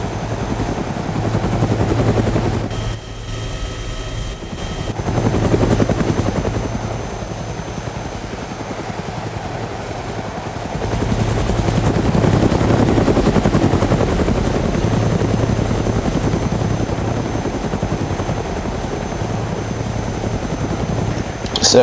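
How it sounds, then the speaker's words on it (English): A helicopter in the game DayZ flies near the power plant in Electro, its rotor and engine droning loudly and steadily throughout, with a brief dip in the middle before the roar swells back. "I just thought I'd take the helicopter for a spin"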